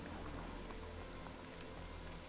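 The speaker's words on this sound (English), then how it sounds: "It's raining." Steady rain pours down in the video game Horizon Zero Dawn, a constant full-band hiss of drops heard alone without talk for the whole stretch.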